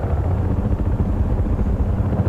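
A helicopter in Battlefield 3 on the Wake Island map, heard as a loud, steady rotor roar and whine close by for the whole stretch, with no talk.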